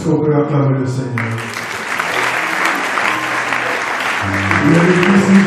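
A wedding audience claps in loud, sustained applause that fills the room and stays steady throughout, with a crowd murmur and music under the clapping.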